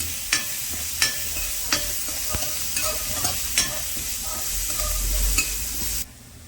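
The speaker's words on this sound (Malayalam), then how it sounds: "ഉള്ളി ഒന്ന് വാട്ടിയെടുക്കാം" Onions sautéing and softening in a pan for a country chicken curry, a steady sizzle with sharp scraping stirs at regular intervals, close and clear with no talk.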